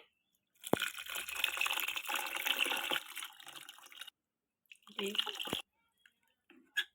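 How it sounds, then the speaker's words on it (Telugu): Tamarind juice is poured into a pot in two splashing bursts of liquid, close and fairly soft, followed by a few drips and light clinks. "మొత్తం చింతపండు పులుసు వేసుకోండి"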